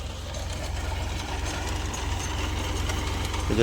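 A tractor engine idling nearby in a potato field during harvest, a steady low rhythmic chug with a faint mechanical rattle, continuous and moderately loud throughout.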